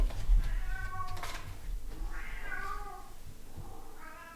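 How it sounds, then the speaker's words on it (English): A cat yowls loudly several times in drawn-out, wavering meows, close by, with short pauses between cries and no talking. "Sorry if you can hear my cat yelling."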